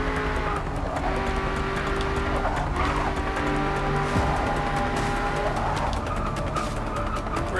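A Shelby GT350R races around the Nürburgring in Forza Motorsport 6. The engine drones steadily as it changes pitch through the gears, and the tires squeal and skid through the corners, staying loud and continuous throughout.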